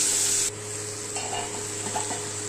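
Whole spices fry in a pan, a soft steady sizzle with a few light scrapes and taps of a stirring spoon, close and faint, after a brief louder burst of hiss at the start.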